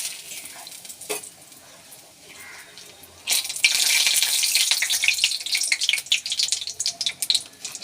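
Two bay leaves dropped into hot oil for a dalia khichuri set up a broad, steady sizzle that bursts in loudly partway through and keeps crackling close by, after a quieter stretch with a single sharp tap.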